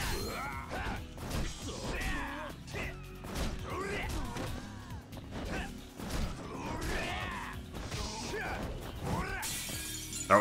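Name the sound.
window being smashed in a video game (Judgment)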